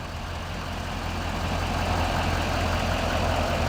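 A 2015 GMC Sierra 3500 Denali crew cab 4x4 idles with its 6.6 liter Duramax turbo diesel V8, a steady low rumble and clatter that holds even throughout.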